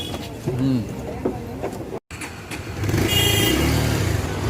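A Bajaj Pulsar 150 motorcycle rides off on a punctured rear tyre; after a brief cut the engine drone swells louder and rougher, with voices heard along the way.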